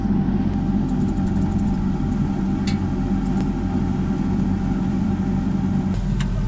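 A farm sprayer truck's engine idles steadily at close range, a constant low rumble holding level with no pauses while the boom sits lowered.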